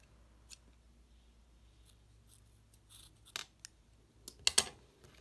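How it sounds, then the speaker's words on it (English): A few crisp snips of scissors cutting knitting yarn near the end, following soft handling noises in an otherwise quiet setting. "Let me grab my scissors."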